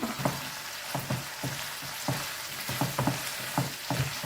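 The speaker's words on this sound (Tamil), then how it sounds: "இப்போ பிரண்டையை போட்டுக்கிறேன் எல்லாம் ஒன்றா அப்படியே வதங்கி வரட்டும்" Pirandai frying in a pan with garlic, chillies, onion and curry leaves, a steady close sizzle broken by regular stirring scrapes about twice a second, with no voices.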